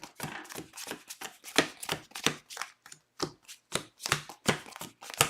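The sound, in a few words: shuffling playing cards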